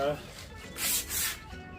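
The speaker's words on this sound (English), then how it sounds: "Now, I'm going to try wet sanding it." A few rough, raspy rubbing strokes close by, with two stronger swipes in the middle, wet sanding car trailer paint with 1500-grit sandpaper and water.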